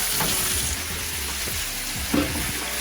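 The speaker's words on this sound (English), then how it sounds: "Now all the steak is in the deep fryer." Pieces of steak frying in hot oil in a deep fryer at 180 degrees, a close, steady crackling sizzle with bubbling pops and no voices.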